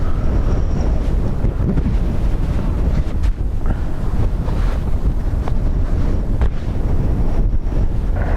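Strong wind buffets a camera microphone outdoors at Dublin Airport, a loud, continuous low rumble that swells and dips in gusts, close and without talk.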